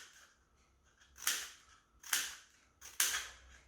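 Scissors snipping through a cardboard toilet roll tube, three sharp, close cuts spaced about a second apart, with quiet between them.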